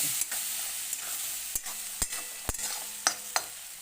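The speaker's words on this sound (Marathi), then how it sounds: "चला आता थोडंसं हे करूया चांगला मसाला भाजूया" Masala roasts in oil for a tilapia fish curry, giving a soft steady sizzle punctuated by several sharp spoon clacks against the pan, spaced roughly half a second apart near the end.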